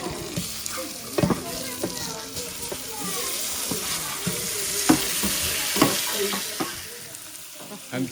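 Potatoes tipped into a hot pan for a Mauritian briani, sizzling and frying steadily with scraping stirs and clatter throughout, close and loud, while people talk over it.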